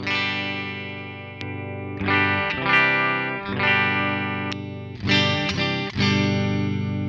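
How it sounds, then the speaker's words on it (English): An electric guitar played through a Roland Cube modelling amp on its Black Panel setting, which copies a clean Fender Twin, rings out in sustained chords and notes with light chorus and effects shimmer and no talking. "we've got Black Panel, which is like a Fender amp, like a Fender Twin. So big sort of clean American sort of sound."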